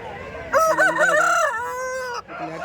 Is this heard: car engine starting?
no